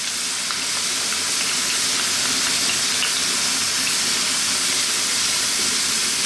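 Pork and vegetables with oyster sauce stir-frying in a wok over maximum heat give a loud, continuous, close sizzle and hiss with faint stirring scrapes and no voices.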